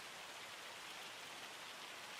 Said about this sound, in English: How long's this rain lasting for?